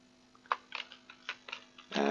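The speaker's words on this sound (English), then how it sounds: "all these machines are making the bolts and the nuts." Machines producing nuts and bolts in the factory game Out of Ore give off a series of soft, short mechanical clicks and taps at an uneven pace, ending in a louder burst of whirring.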